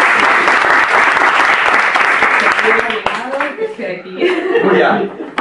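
Loud audience applause at a Spanish public-speaking talk, dense clapping that fades after about three seconds into chuckles, murmurs and speech from the room.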